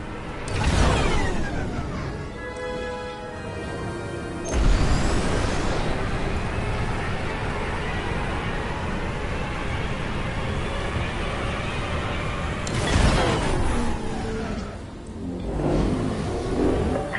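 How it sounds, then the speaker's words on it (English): Starfighter engines boosting in the Star Wars: Squadrons video game, a loud roaring thrust surging in with a rising whoosh, holding steady, then swelling again, with a brief voice near the start. "Okay, we're ready to boost. Punch it."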